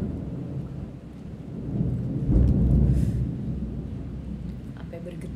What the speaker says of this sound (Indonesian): Tuh kan, ini petirnya lagi tuh.